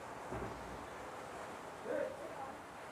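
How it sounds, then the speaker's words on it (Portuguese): Rain and thunder outside: a low rolling thunder rumble over a steady hiss of rain, faint and distant, with a voice speaking softly underneath. "Chuva!"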